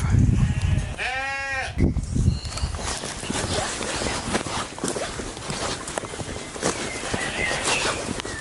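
A single sheep bleats loudly and nearby, a wavering call, followed by rustling, footsteps and steady outdoor noise.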